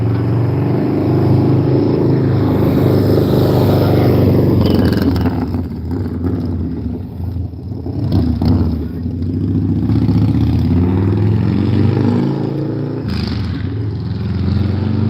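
A nearby engine revs and drones, rising and falling in pitch over several seconds, loud and continuous with some rattling.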